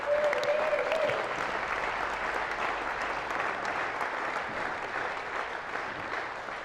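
Applause from a dinner audience fills the room, dense and steady, with many hands clapping at once throughout and no voices standing out.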